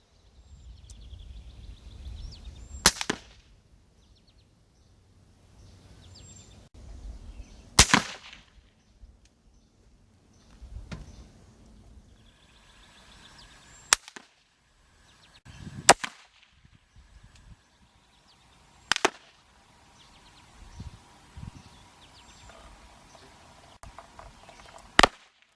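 CCI .22 Quiet rounds fired at test jugs, several sharp, fairly subdued cracks spaced several seconds apart with faint handling noise between shots.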